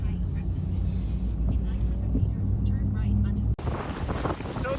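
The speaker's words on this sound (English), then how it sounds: "So the wind has gotten a little bit out of hand for the boys." Strong wind buffets the microphone on the coast of Vancouver Island, British Columbia, near a military zone, a steady low roar that surges and cuts out abruptly near the end, with a sharper gust following.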